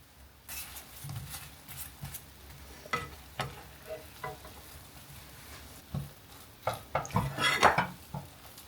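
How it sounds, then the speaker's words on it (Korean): Marshmallows melting in butter are stirred in a pan over low heat for heart-shaped Valentine's chewy cookies, with scattered scraping clinks of utensil on pan and soft sizzling, livelier toward the end, no talking. "마시멜로 넣어줄게요. 얘도 약불로 저어가면서 녹여줍니다."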